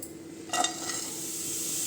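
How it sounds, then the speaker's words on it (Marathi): Jaggery melts in a kadhai with a soft, continuous sizzle, and one brief clattering stir or drop lands partway through before the hiss settles evenly. "हे गूळ जे आहे ते आपल्याला वितळून घ्यायचं आहे"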